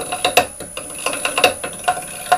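A gouge cutting a sycamore bowl on a wood lathe, with repeated short scraping clicks at an uneven rhythm as the tool bounces on the surface, close and fairly loud, with no talking.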